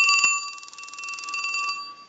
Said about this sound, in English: Now this is a mechanical bell, and you will hear a little bit of mechanical noise